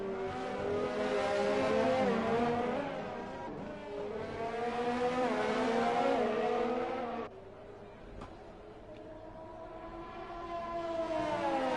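F1 cars from F1 2020 race around the Abu Dhabi circuit, high-pitched engines screaming and shifting pitch as they accelerate and pass, with a sudden drop in engine noise partway and another car building again.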